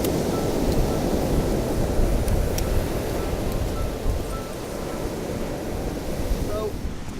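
Large waves surge and break along a rocky Isle of Skye shoreline, a continuous loud roar of surf mixed with wind buffeting the microphone, with no clear individual crashes standing out.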